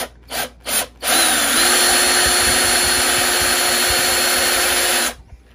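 A power drill starts with three short bursts, then runs in one loud, sustained whine as it bores through wood before cutting off.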